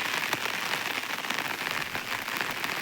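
Light rain patters steadily on a surface close by, an even, dense hiss of drops with no talking.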